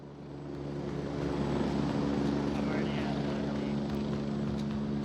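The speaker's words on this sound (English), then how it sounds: "This is another new feature since the update. Helicopters and jets." In the VR shooter Onward, a helicopter or jet engine swells into a loud, steady droning roar and holds for several seconds, rumbling low under faint background noise.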